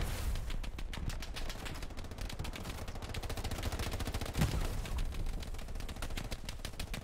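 Rapid, steady machine-gun fire in the World War II shooter Hell Let Loose as a German tank attacks, a continuous rattling burst at moderate volume with no talk.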